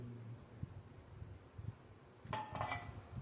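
Cooked rohu fish slides onto a plate with a short burst of clinks and clatter of dishware, quiet and close, after a stretch of faint kitchen noise.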